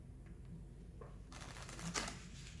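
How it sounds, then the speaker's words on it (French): A blue tarot card deck shuffled by hand, a very faint riffle with soft ticks followed by a brief burst of fluttering card sounds, quiet and close with no talk. "je vais d'abord utiliser un jeu à tarot bleu. Que je vais dans un premier temps mélanger."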